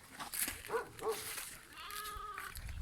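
Sheep and lambs graze in Sarıhacılı village, with a few bleats and a drawn-out cry close by over outdoor background noise.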